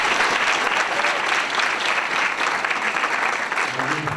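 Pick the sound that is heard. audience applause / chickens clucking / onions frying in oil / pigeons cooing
audience applause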